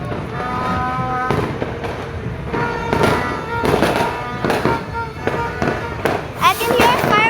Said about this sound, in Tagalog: I can hear fireworks everywhere also.